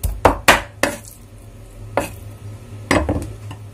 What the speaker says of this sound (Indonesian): Ayamnya sudah selesai dicincang